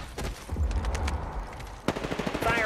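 Rapid automatic gunfire in Apex Legends, dense bursts of shots rattling close and loud, with a sharp sudden crack partway through and continuing fire after it.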